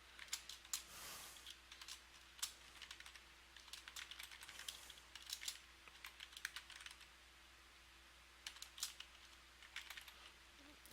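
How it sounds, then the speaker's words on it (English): Keys clatter in quick irregular bursts on a computer keyboard, close but quiet, with short pauses between runs of typing and a faint steady hum behind. "I'm going to type in dir, open and close paren"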